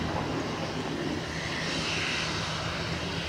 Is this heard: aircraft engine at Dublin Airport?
yes